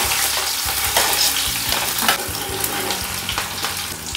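Chopped onion hits two large spoons of hot oil in a kadai over a high gas flame, producing a loud, steady sizzle with the scrape and clatter of stirring.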